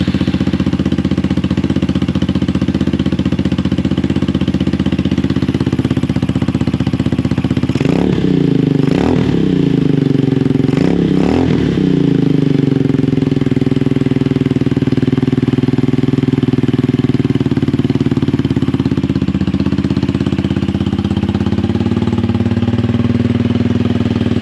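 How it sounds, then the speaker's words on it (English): A Venom Retro Chopper 250 motorcycle with a Bronco engine and a newly fitted muffler idles with a steady, muted, low putter up close, broken by two quick pairs of throttle blips before settling back to idle. "fire it up and give you a little test sound."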